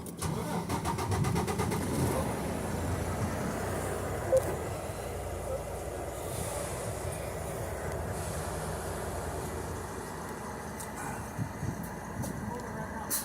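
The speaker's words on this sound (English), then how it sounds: "Okay, well start the truck." A truck engine starts, with a rapid clattering crank that catches into a steady rumbling idle, loud and close, with muffled talk at times.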